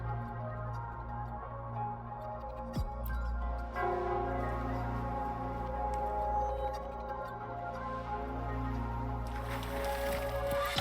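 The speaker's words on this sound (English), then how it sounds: "It's the bell." A bell rings repeatedly in the Wuthering Waves video game, sounding as soft, steady tolling tones over a low ambient hum, with a brighter metallic shimmer building near the end.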